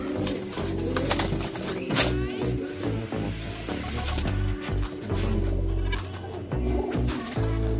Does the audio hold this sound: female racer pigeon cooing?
yes